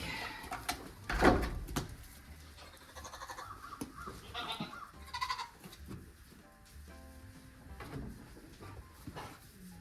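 Goats bleating in a barn during daily herd care, with a mother goat calling to her kids; a loud bleat stands out early, followed by scattered quieter bleats, shuffling and clatter.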